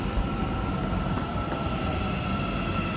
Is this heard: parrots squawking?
no